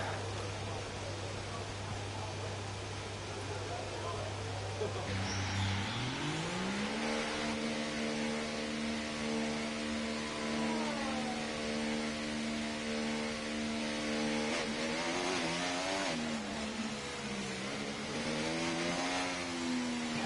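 F1 car accelerating in the F1 24 game at Miami, the engine rising through gears with a steady high-pitched whine climbing and shifting repeatedly, loud and continuous for about twenty seconds.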